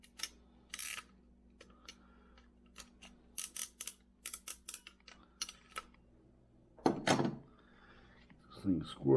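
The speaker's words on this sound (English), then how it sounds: "if you're lucky enough to have a zip tie tool, it makes it really quick and easy." A zip tie tool works on a zip tie while modifying a Clam Arctic Warrior ice shelter: a run of sharp, scattered clicks and snaps, then two louder rasping ratchet-like bursts near the end, close by.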